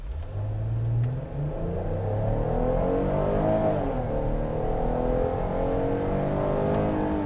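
A 2021 Chrysler Pacifica Pinnacle all-wheel-drive minivan with a 3.6-liter V6 accelerating from a standstill without launch control, the engine note climbing through rising revs with a brief shift dip, heard from inside, steady and fairly loud with no talk.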